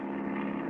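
A steady, droning propeller aircraft engine hums continuously at moderate distance, an even buzzing tone with no break.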